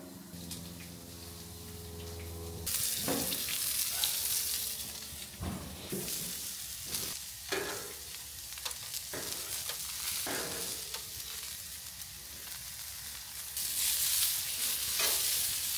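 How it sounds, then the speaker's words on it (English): Onions hit clarified butter on a barbecue with a burst of loud sizzling that stays steady, broken by clattering knocks and scrapes of a utensil, then swells again near the end. "I am gonna add these onions though right now with a little bit of the clarified butter."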